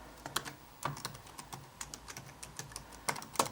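An email address being typed on a computer keyboard: irregular bursts of close, crisp key clicks with short pauses between them, heard alone without talk.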